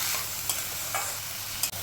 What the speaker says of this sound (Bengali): এরপর সমস্ত উপকরণ হালকা করে নাড়াচাড়া করে নিয়েছি।